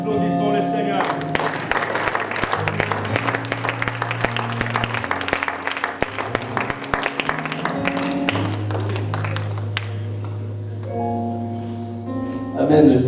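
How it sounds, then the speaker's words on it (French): A church congregation at a francophone conference applauds the Lord, with steady rhythmic clapping running under music for most of the stretch before tapering off near the end. "Applaudissons le Seigneur"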